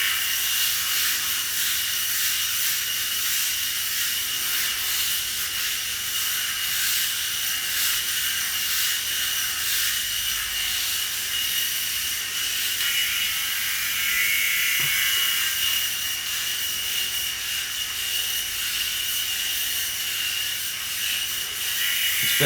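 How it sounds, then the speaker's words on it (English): A Skull Shaver Pitbull electric head shaver runs with a steady, close high-pitched whine and buzz as it passes over the head, holding constant throughout with no talking. "I got used to using the skull shaver coming up the sides here"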